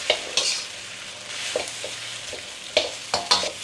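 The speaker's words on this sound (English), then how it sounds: "Stir fried it." Kale, onion and tomatoes stir-fry for Thai fried rice in a hot pan, with a low sizzle under a series of sharp, irregular spatula scrapes and clanks against the pan.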